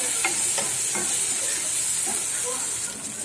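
Turmeric and chili powder lightly frying in a pan, a close, steady sizzle with soft scraping and stirring knocks from a spoon, easing slightly at the end.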